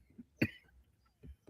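A single sharp cough close to the microphone, followed by a couple of faint throat sounds in a quiet room.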